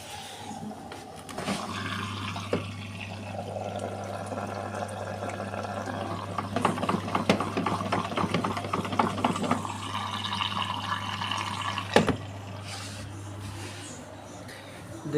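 A washing machine fills with water for the final rinse of a duvet, a steady rushing flow with a low hum and a few clunks, heard up close without talk.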